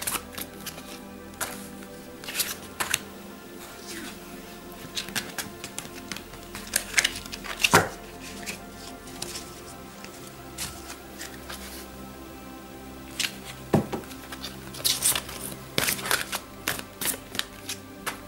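Tarot cards shuffled and laid out for a hexagram spread, giving soft papery riffles and sharp little flicks and taps scattered across a quiet stretch, close and fairly faint with no voices.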